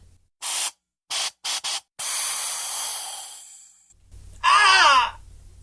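Pepper spray hissing from a canister in a few short bursts, then a longer sustained spray that fades, followed by a loud strained groaning cry.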